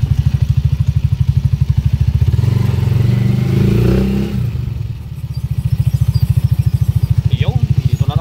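A TMX155 motorcycle engine idles with a steady low throb, revving up and swelling in the middle before settling back to a rhythmic idle, close and loud.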